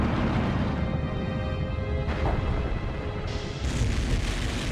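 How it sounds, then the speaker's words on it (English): An underwater volcanic ridge erupts in explosions of pillow lava as molten rock meets icy water, giving a loud, continuous, deep roaring rumble with no voices. "It starts with explosions of pillow lava, created as molten rock meets icy water."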